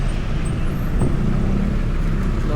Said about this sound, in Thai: รถติดเลย